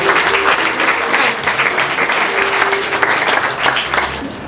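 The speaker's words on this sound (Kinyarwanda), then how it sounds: "Mwahaye iyo Mana amashyi" An audience of parents and children at a school gathering claps in dense, sustained applause, loud and continuous throughout.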